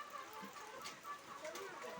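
Chickens cluck faintly in short, scattered bursts against a quiet background, with a brief louder sound at the very end.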